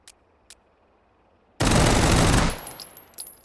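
A video game gun fires one dense, loud burst of rapid shots lasting under a second, then the sound rings off and decays, preceded by a couple of faint mechanical clicks.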